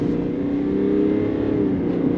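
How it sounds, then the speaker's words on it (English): A 2022 Chevrolet Silverado 1500 RST with the 3.0 Duramax diesel pulls hard from a stop, its steady engine roar rising and filling the whole stretch, with any tire chirp buried in the drone. "Got a little bit of chirp out of the tires too."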